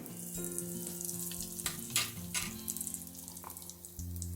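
Spices and asafoetida sizzle and crackle in hot tempering oil for amla pickle, a fizzy burst that swells then settles, with a low steady hum underneath.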